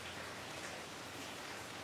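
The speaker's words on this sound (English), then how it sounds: "it's pouring down rain outside here" Rain pours down outside in a faint, even hiss that holds steady throughout with no other sounds.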